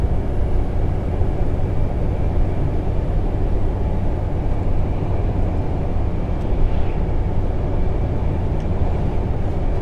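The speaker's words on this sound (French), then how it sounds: "il y a un hélicoptère à droite" A helicopter flies nearby, a steady broadband rotor and engine roar holding at an even level for about ten seconds with no talk over it.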